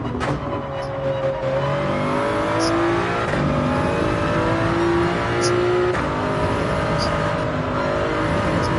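Race car engine in a racing video game revving loud and close, with sustained whining tones that rise and shift as the throttle eases and picks back up, with no talk over it.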